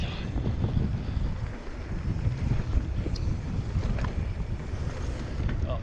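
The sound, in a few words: wind blowing into the microphone while mountain biking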